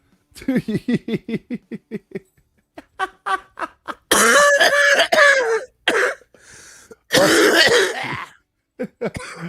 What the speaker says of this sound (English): There's those hard coughs to get you all lightheaded and make you all happy